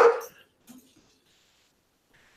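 A dog gives a single sharp bark up close indoors, followed by a short soft whine or yip and then near silence.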